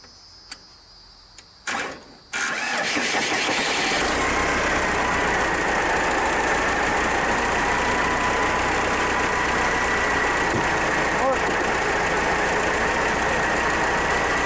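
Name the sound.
Case 580B backhoe engine starting and idling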